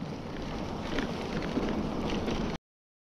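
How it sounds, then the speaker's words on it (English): Steady wind buffets the microphone on a sagebrush trail during a mountain bike ride at Chamna Natural Preserve, a constant loud rush that cuts off abruptly. "Sagebrush riding's nice, but there's a lot of wind"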